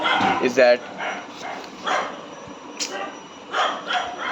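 Dogs bark and yip in short bursts in the background while a person keeps talking over them.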